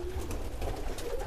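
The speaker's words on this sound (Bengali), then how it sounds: "এই যে এখানে প্রত্যেকটা কবুতর উড়া কবুতর," Flying pigeons at a pigeon farm coo and rustle together in a dense, close chorus, a steady low warble with soft flutters throughout.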